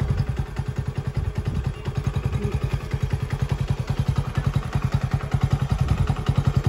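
Rapid, evenly pulsing mechanical clatter from the plastic motor mechanism of a toy AK-47 light fitted on a Splendor motorcycle; loud and close, the beats grow slightly sharper toward the end, with no talking.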